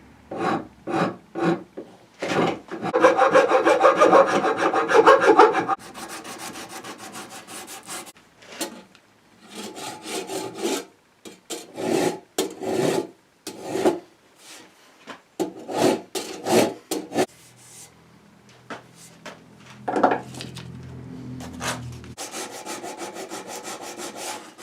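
Hand sanding and buffing of a wooden 12 gauge shotgun stock and receiver, repeated rasping strokes in bursts, some rapid and dense, others slow and spaced, with pauses between, close and fairly loud.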